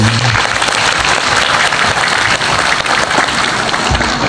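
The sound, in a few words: audience applause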